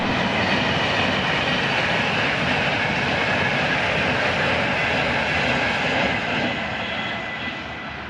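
A train passes through Gretna on a sunny day, a loud, steady broadband rumble and roar that holds evenly for several seconds before easing off slightly at the end, with no voices.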